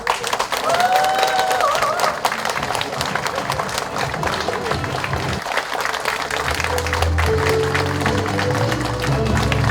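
An audience claps loudly and steadily to open a lecture by Park Jie-won, former National Intelligence Service director. The clapping is a thick, continuous wash that runs the whole time, with some crowd noise and a faint tune rising near the end.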